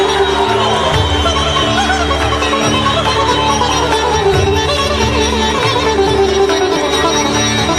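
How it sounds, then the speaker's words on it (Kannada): A large crowd applauds steadily throughout at the swearing-in ceremony of D.K. Shivakumar as Karnataka's chief minister, the clapping dense and continuous with a low hum of background sound beneath it. "ಚಪ್ಪಾಳೆಯೊಂದಿಗೆ"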